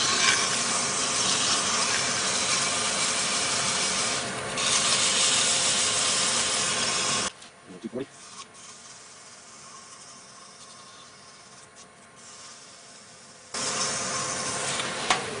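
A turned wooden pill box is sanded on a spinning lathe, giving a loud, steady broadband hiss over the motor's hum that drops away for several seconds, then returns.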